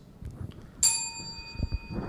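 A single bright bell ding rings out once to open the opening statements of a superhero actor debate, its tone ringing on and slowly decaying over quiet room murmur.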